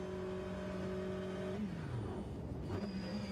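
Onboard race car engine in the Le Mans Virtual sim racing game, droning steadily then dropping in pitch as the car slows into the Mulsanne chicane, fairly faint and continuous with no talking.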